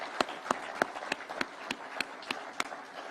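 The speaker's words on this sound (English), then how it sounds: "please let us clap for those great people" An audience clapping at a public gathering, heard as sparse, regularly spaced single claps, fairly faint and distant, with no voices over it.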